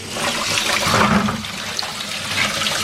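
Water gushes loudly and steadily out of newly installed, heat-welded polypropylene pipes at an earthship build site, a close, continuous rushing flow with no speech.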